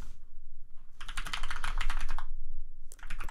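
A computer keyboard clatters in two rapid bursts of close, crisp keystrokes while a URL is typed, the longer run in the middle and a short one at the end, with a low hum underneath.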